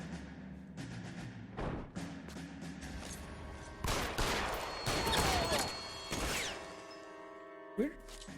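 Gunfire in the LA Noire video game, with several loud sharp shots and bursts scattered across the stretch, some in quick clusters and a last crack near the end, mixed with faint background game sounds.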